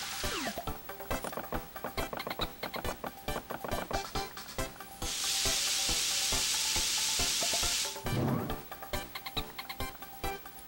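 Ingredients are cooked and mixed in Paper Mario: The Thousand-Year Door, a busy rattling and clicking mixing effect under game music, with a sustained bright hiss in the middle and a brief chime near the end.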